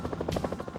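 A military helicopter flies close by during a rooftop prison rescue in Panama, its rotor beating in a rapid, even chop with no talking.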